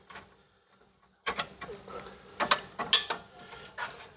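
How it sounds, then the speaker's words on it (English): A ratchet wrench worked on the front end of a 2013 Sonata, quiet at first, then a run of close, sharp clicking bursts and metallic ratcheting strokes in uneven rhythm. "So now I can use the ratchet there"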